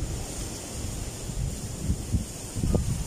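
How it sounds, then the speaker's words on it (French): Strong wind blusters across a lakeside camp in Normandy beside a bird reserve, a loud, steady roar with gusty swells and rumbling microphone buffeting throughout. "il y a énormément de vent"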